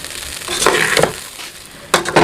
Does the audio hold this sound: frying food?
yes